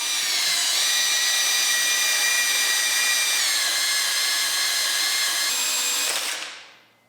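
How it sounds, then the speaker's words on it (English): A power drill spins a Volvo B230 engine's oil pump drive shaft to prime the oil system, whirring steadily at high speed for several seconds, its pitch dipping slightly once, then winds down and stops. "Spinning that with a drill primes the system"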